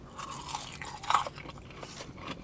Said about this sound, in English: And these curly fries, they're curly and crispy and crunchy.